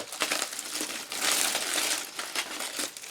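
Foil wrapping crackles and crinkles as it is pulled open, a close, bright, continuous rustle that swells into a dense burst of crumpling before easing into shorter crinkles.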